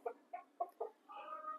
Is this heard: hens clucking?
yes